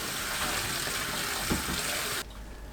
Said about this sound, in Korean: 낙지를 흐르는 물로 헹굽니다.